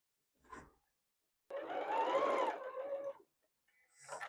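A sewing machine stitching a quilt along a crease, one steady whirring run of about a second and a half, close and clear, with brief faint clicks before and after.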